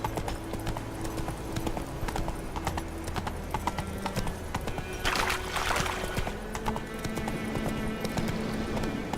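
Horse hooves clip-clop steadily on the ground in The Witcher 3 video game, a brisk close rhythm with a short whinny-like burst in the middle and faint game ambience underneath.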